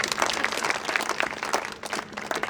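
Audience at a Hindi comic poetry gathering (kavi sammelan) breaks into applause, a lively patter of many hands clapping with uneven bursts, moderately distant and sustained for a few seconds.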